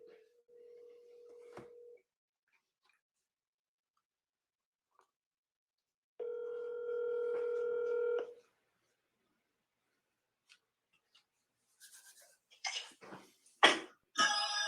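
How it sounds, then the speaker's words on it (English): Telephone tones heard quietly and alone: a short steady tone, a pause, a longer dual-tone signal, then a rapid run of brief clicks and bursts as the call connects. "Dialing."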